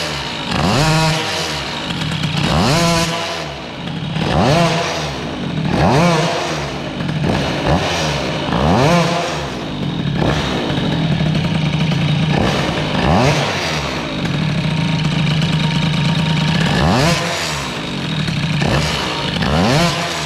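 An air-cooled Peugeot 103 moped with a Stage6 MK2 cylinder and MVT CDI sputters and revs while being ridden, loud and close, with a rhythmic rise-and-fall pulse and uneven crackling throughout.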